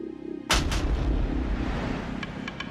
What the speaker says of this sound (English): Every day, bombs could be heard in Pemutran Bay.